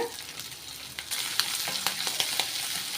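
Shallots and green chili sautéing in oil for cucumber rice, a soft sizzle that grows louder midway, with several light stirring scrapes and ladle taps and no speech.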